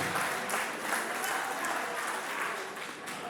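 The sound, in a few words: wedding guests applauding the couple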